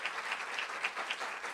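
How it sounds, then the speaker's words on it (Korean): Audience applause at a ceremony, a steady wash of many hands clapping together, moderately loud and continuous with no voices over it. "박수 부탁드리겠습니다."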